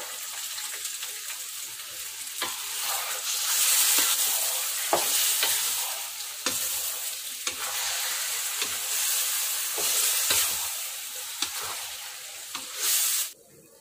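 Pork adobo sizzles steadily as it fries in a pan, with repeated scraping stirs and a few sharp clanks of a utensil against the pan throughout; no voices are heard.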